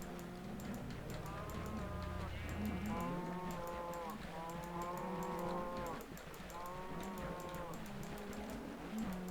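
Several Minecraft cows moo over and over in a game world, overlapping low drawn-out calls that stay close and steady across the whole stretch, with faint clicking game sounds behind them and no talking.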